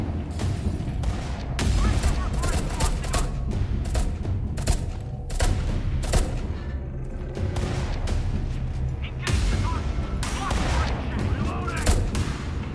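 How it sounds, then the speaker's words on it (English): Gunfire in the video game Beneath cracks in rapid, loud bursts and heavy repeated shots, some booming, with a player talking over the shooting. "They're shooting at me through the wall?"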